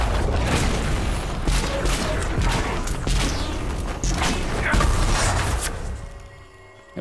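A fire attack striking a target in Dragon Age Inquisition, heard as a dense barrage of booming impacts, crackling bursts and whooshes that hold at steady loudness for about six seconds before tapering off.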